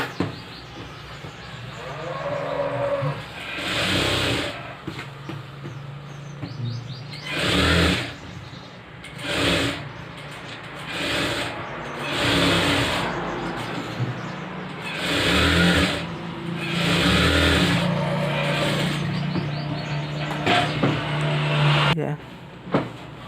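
A sewing machine stitching an embroidered blouse, running in repeated short bursts of whirring with brief pauses between, close and fairly loud.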